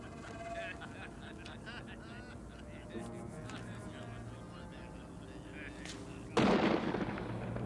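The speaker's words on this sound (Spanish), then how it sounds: "¡Es que nunca habéis escuchado un disparo!" A single gunshot in a Spanish-language feature film, a sharp loud crack near the end that cuts through a busy, noisy background with voices.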